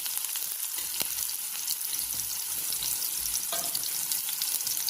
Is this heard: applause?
no